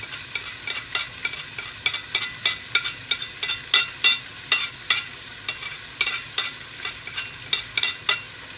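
Beef curry with red chilli, salt and turmeric fries in a pan, with a soft steady sizzle under a quick, rhythmic run of spoon scrapes and clanks throughout, close up and without talk.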